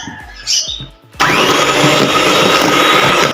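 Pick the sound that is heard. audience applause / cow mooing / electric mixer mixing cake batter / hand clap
electric mixer mixing cake batter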